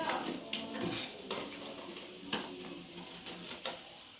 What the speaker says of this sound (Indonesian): ini kertasnya digunting